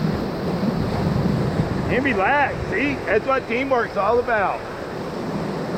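Rushing whitewater of the Ocoee River roars steadily on a rafting run, loud and continuous, with a voice talking over it partway through.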